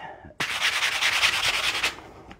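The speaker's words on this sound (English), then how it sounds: "So what I'll do is sand it." One long, continuous sanding stroke rasps loudly across an art panel coated with three layers of gesso, starting abruptly and fading at the end, heard alone and up close.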